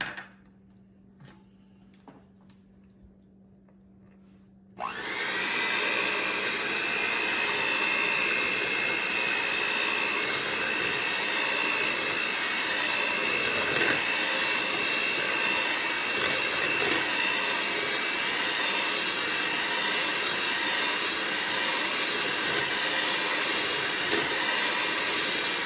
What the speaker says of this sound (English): And then we're going to mix this together with our hand mixer.